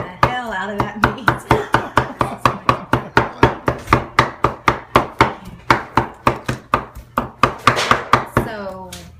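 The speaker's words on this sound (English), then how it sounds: "he is chopping the hell out of that meat." Texas-style brisket is chopped on a board with a cleaver in rapid, steady, loud thwacks, around thirty sharp strikes in a brisk unbroken rhythm.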